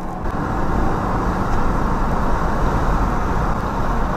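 A Citroën car with a manual gearbox is heard from inside while driving, giving a steady low engine and road rumble that holds at an even level with no talking.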